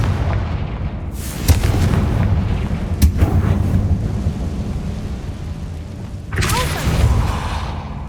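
Confringo blasting spell from Hogwarts Legacy detonating with loud booming explosions, a few heavy thumping blasts with rumbling tails over a dense low drone, the last burst near the end.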